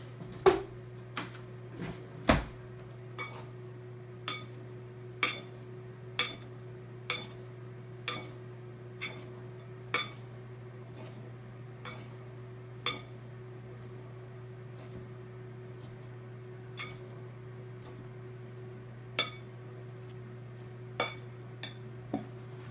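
Raw burrito ingredients dressed with olive oil are stirred in a bowl, giving faint, evenly spaced clinks of a utensil against the dish over a low steady hum.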